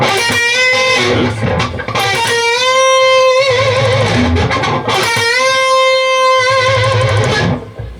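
Distorted electric guitar plays short picked notes that rise into sustained bends with wavering vibrato, twice in succession, loud and close, with no voices.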